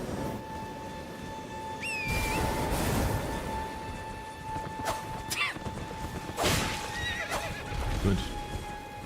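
A horse neighs and whinnies with clip-clopping hooves in the video game Elden Ring, set against a steady game tone, with several louder bursts and voices talking over it.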